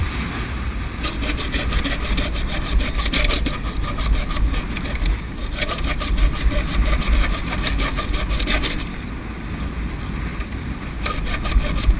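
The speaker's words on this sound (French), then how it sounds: "Il faut scier le haubans qui est là." A saw rasps steadily through the shroud of a dismasted sailboat, a continuous close gritty stroke-by-stroke grinding with brief pauses, loud and alone over a faint background of wind and water.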